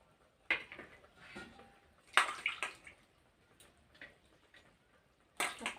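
Peeled pieces of watermelon rind are rinsed one at a time in a basin of water, giving scattered splashes and clinks against the basin with quiet pauses between, close and soft.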